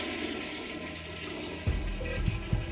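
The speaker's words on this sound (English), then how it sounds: "How did the toilet just flush?" A toilet flushes with a steady rushing of water that surges louder partway through, gurgling and churning as the bowl empties, close by with no one speaking.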